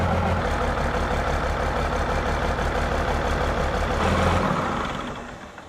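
A Cummins diesel swapped into a Jeep Wagoneer idles with a steady, loud low rumble and even mechanical clatter that holds constant before easing off at the very end.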